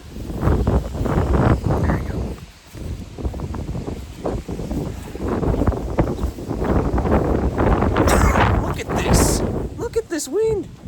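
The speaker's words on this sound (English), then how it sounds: "This wind. Look at what it's doing." Wind gusting through a tree outdoors, a steady rushing roar with rustling surges under someone talking almost the whole way.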